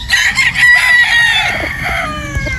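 A Boston Roundhead broodstag rooster crows loudly and close, a long strained call followed by clucking and other fowl noises on a farm.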